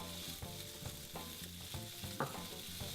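Onions and garlic caramelize in a pan with a soft, steady sizzle and faint crackling pops, heard alone and at low volume.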